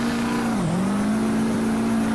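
Loud truck engine from Farming Simulator 2015, droning steadily with a brief dip and recovery in pitch as the throttle shifts, heard alone without speech.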